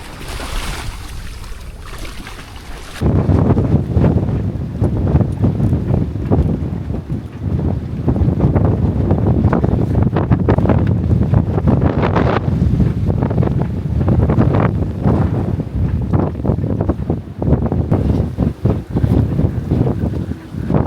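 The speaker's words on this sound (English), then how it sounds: "Bit of a squall coming through." Gusty squall wind buffets a boat at sea, roaring loudly and continuously with rumbling microphone buffeting after a quieter opening few seconds, with water and waves beneath.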